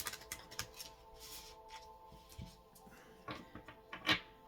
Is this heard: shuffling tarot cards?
yes